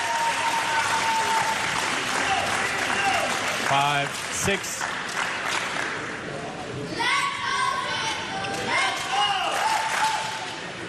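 Spectators at the 2024 Denmark Open badminton tournament cheer and applaud for a player, a lively crowd roar with scattered shouts and high voices, while a commentator talks over it.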